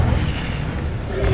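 Incendio fire spell cast in Hogwarts Legacy, a dull, booming blast that fills the short clip with a steady, rumbling roar.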